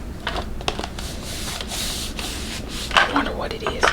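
Paper wrapping crinkles and tears off a McDonald's fast-food item in a series of close, crisp rustles and rips. Quieter bursts come early, and a louder cluster of crackles follows near the end.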